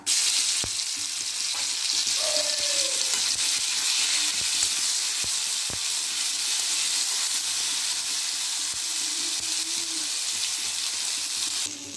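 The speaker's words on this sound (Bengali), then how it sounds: "জিরেটা যখন লাল লাল করে ভাজা হয়ে যাবে তখন দিয়ে দেব বেটে রাখা জিরে বাটা।" Whole cumin seeds and ground cumin paste fry in hot oil for a tengra fish and cauliflower curry, making a loud, steady close-up sizzle with occasional sharp clicks from a stirring utensil.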